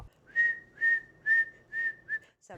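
Military ants in the animated film Minuscule give a run of five steady, near whistled tones, evenly spaced and loud, each one a held pitch with a brief rise or fall, alone without talk.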